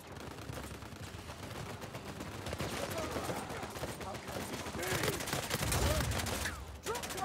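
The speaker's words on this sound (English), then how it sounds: "I think someone just shot at me from behind." Online match of Uncharted 4 on PlayStation, with continuous gunfire crackling through a busy battle mix, rattling shots at moderate distance that build slightly toward the end amid other game noise.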